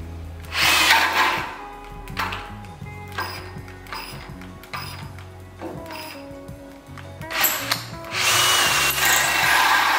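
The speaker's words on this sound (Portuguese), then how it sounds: "Vou fazer um novo furo com a velocidade 2 agora." An Einhell 18 V brushless drill bores a hole at speed 2. The motor whines loudly in bursts, with brief pauses and grinding surges as the bit bites.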